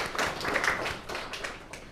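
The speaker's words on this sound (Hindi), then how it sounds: "तालियां हो जाएंगी।" Audience at a company event supporting under-served girl students breaks into applause, a soft, steady patter of many hands clapping at moderate distance for a couple of seconds.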